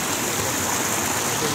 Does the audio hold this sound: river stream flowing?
yes